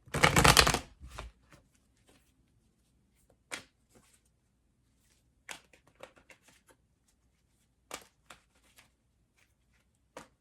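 Tarot cards are shuffled in a quick riffle close by, followed by a few sparse, soft taps and flicks of cards being laid down in a quiet room.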